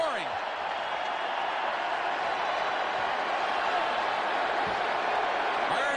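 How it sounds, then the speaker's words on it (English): A packed hockey arena crowd in Buffalo roars steadily after a playoff goal against Toronto, a dense sustained cheer filling the whole stretch with some applause mixed in. "this crowd is rising to salute Rob Ray. Oh, they're standing now and roaring"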